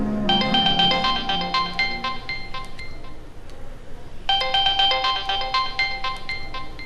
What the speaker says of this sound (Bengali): ফোনটা একটু রিসিভ করি